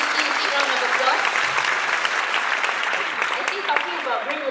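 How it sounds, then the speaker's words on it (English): A seminar audience in Singapore gives a big round of applause, steady and full from a large crowd, with voices mixed faintly into the clapping throughout. "Can you give Y-Span and the scientists and you a big round of applause?"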